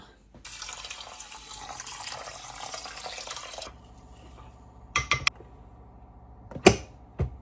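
Tap water runs steadily into the inner pot of a Toshiba rice cooker for about three seconds, then stops, followed by a few close clunks and knocks as the pot is handled.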